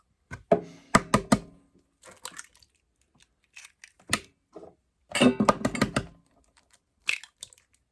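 Two eggs cracked into a bowl of cornmeal corn dog batter, giving sharp knocks and crunchy shell taps in separate bursts, close and fairly quiet, with no talking.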